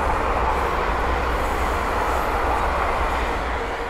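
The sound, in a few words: pair of Class 350 electric trains passing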